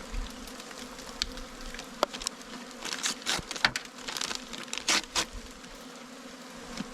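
Honey bees buzz in a winter hive during feeding, a close, shifting drone with several louder bursts as bees move about near the opening, and no one speaks.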